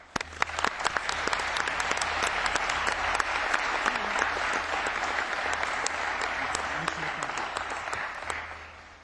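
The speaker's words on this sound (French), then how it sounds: "je vous demande d'applaudir tous ceux qui ont travaillé sur ce rapport" Conference delegates at a European Parliament session applauding those who worked on a report, a sustained wash of many hands clapping in a large hall, moderately loud and even throughout, with faint murmuring beneath.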